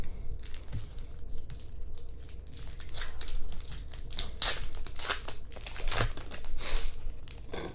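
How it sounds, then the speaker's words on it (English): Crinkly foil wrapper of a Pokemon Black and White Plasma Freeze booster pack being torn open by hand, close-up scattered crackling and ripping sounds that continue steadily, no talking. "So we're gonna open up the black and white plasma freeze."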